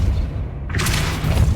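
A Depulso spell cast in the video game Hogwarts Legacy: a low rumbling bed, then a sudden bright, airy whoosh with a soft boom that lingers to the end.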